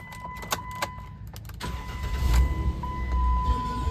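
A Jeep Wrangler Unlimited Sahara 4WD with about 116,000 miles starts up: a few clicks and a brief crank, then the engine catches and settles into a rising, steady idle, heard close.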